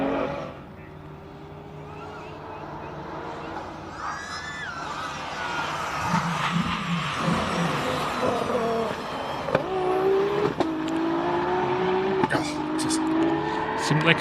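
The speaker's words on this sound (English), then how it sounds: "Turbo sounding angry." A turbocharged race car at the Simola hillclimb's King of the Hill shootout revs hard and accelerates, its engine note rising and swelling as it passes, with a race commentator talking over it.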